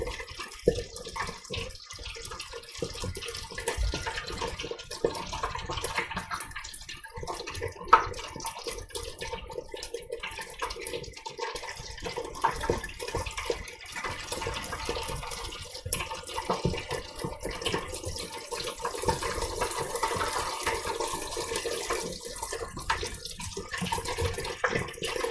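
Karaage chicken frying in hot oil, a dense, steady sizzling hiss that runs unbroken for the whole stretch with a few louder pops, close and without talk.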